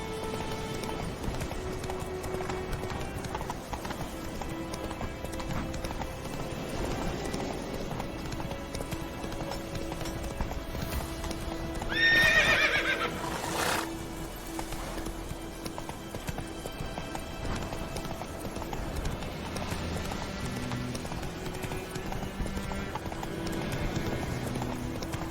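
Horse hooves clip-clop in a steady galloping rhythm with a brief whinny partway through, set in The Witcher 3 video game over a constant background of game music and ambience.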